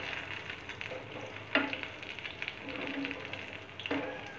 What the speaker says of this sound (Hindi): इसे पलट पलट करके गोल्डन ब्राउन होने तक सेकना है।